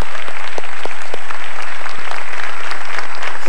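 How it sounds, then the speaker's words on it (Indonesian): Audience applause from a crowd at an event honoring Joko Widodo and Muhammad Yusuf Kalla, steady dense clapping throughout with a few sharper individual claps standing out. "Kita berikan aplaus dulu untuk mereka"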